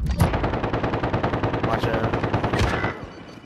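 Rapid automatic gunfire from a Modern Warfare Warzone match rattles in a steady loud stream for about three seconds, then tapers off, with a player's voice talking over the shots.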